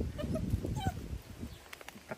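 Dogs guarding chickens on a farm in the Philippines give soft, brief whimpers and whines, a few faint high calls scattered among low snuffling and rustling noise.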